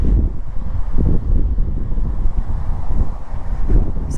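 Gusty wind buffets an external microphone beside the Maud Foster Drain in Boston, a loud continuous low roar with irregular bursts, no voices.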